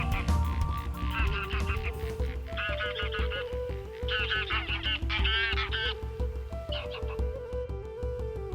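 Greylag geese honking loudly in bursts, many calls overlapping in quick succession over a steady low hum.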